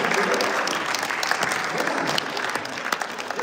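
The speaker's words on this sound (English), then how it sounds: "Let's give them a round of applause." Audience applauding the winning team at a live event in Portland, Oregon, a steady dense clapping that holds at even loudness throughout, with faint voices underneath.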